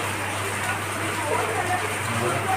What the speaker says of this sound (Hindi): इतना ज़ोर का बारिश हो रहा है ना